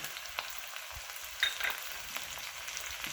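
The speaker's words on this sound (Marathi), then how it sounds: "टाकूया थोडा कांदा थोडासा लाल रंग येतो जरा ह्याला परतून घेऊया" Onion and capsicum sautéing with cumin in a pan for Maggi noodles, a quiet, steady sizzle with a few soft scraping stirs from a spoon, and no talking.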